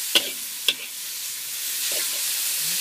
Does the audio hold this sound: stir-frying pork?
yes